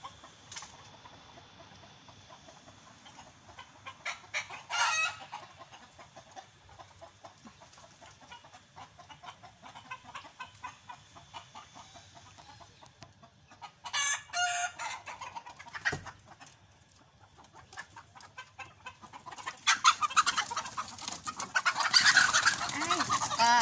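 Poultry flock of chickens clucking softly throughout, with bursts of louder squawking and a rooster crowing toward the end, heard fairly close in a quiet setting without speech.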